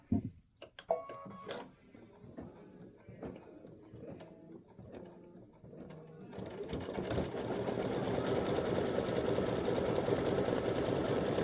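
An embroidery machine stitching color stop 7 runs steadily with a dense, continuous mechanical whir. Scattered clicks and taps come first, and the stitching then settles into a loud, even drone.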